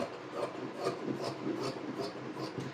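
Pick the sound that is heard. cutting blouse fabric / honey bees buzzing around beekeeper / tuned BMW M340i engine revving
cutting blouse fabric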